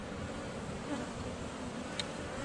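Honeybees buzz steadily and densely close by while a small nuc hive is opened for inspection, a continuous insect drone with no talking.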